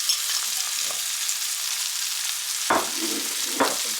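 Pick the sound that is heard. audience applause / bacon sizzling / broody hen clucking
bacon sizzling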